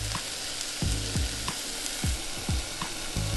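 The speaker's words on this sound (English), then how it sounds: "in goes the onion and the garlic, and give it all a good stir" Onion and garlic hit hot cooking oil in a pan with a constant sizzle, broken by several scraping strokes of a spoon stirring them, close and unaccompanied by speech.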